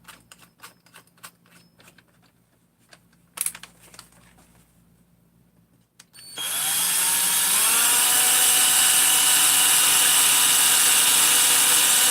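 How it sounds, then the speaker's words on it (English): A few scattered clicks and taps, then a loud power drill kicks in and runs continuously with a steady, high whine until the end. "get out the old drill bit"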